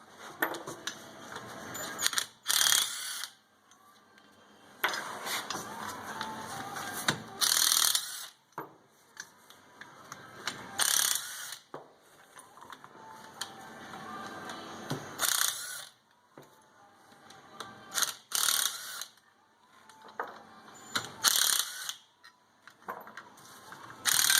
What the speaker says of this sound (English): Impact driver and just ratchet them off.